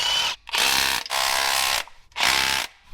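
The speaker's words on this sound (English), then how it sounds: "we'll have to undo these 4 10mm bolts" A ratchet undoing 10mm bolts on a truck axle, heard as three loud, close bursts of rapid metallic clicking separated by brief pauses.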